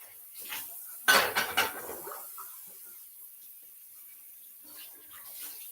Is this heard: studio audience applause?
no